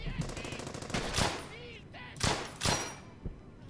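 Machine gun tracer fire in the World War II shooter Brothers in Arms: Hell's Highway comes as scattered sharp bursts and single cracks with whizzing sounds between them, fairly quiet overall.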